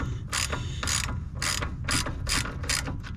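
Hand ratchet clicking in quick strokes, about seven evenly spaced bursts of loud, close clicks while loosening a coilover bolt on a 2005 Infiniti G35.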